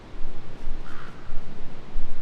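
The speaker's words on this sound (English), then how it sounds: "It's a crow." A crow caws repeatedly in the open-world stealth game Metal Gear Solid V, a series of rough calls over a soft windy ambience with faint rustling.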